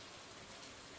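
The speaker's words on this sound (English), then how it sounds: "That can't just be that it's raining, the reason why there's spooky sounds." Steady rain falls in the Stardew Valley video game, a soft, even hiss of drops that runs alone and unbroken for a moment at low level.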